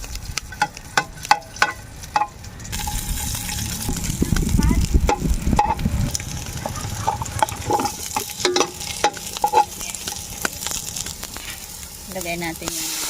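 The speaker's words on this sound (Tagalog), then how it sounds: "Kaya kailangan natin gisa-gisahin." Garlic, onion and ginger sauté in a pan with a soft sizzle, while a spatula scrapes and clicks in an irregular rhythm. A voice speaks faintly at times.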